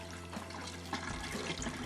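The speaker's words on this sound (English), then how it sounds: "so I dumped out all of the water" Water from an aquarium of growing crystal rocks pours out into a sink in a steady, faint rushing gush that swells slightly partway through, with no talking.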